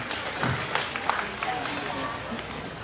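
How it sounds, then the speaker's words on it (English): An audience applauds exhibitors at the 2021 Arizona National junior market barrow show, with scattered claps and crowd noise mixed with a voice over the arena sound. "Let's give a big round of applause to these exhibitors."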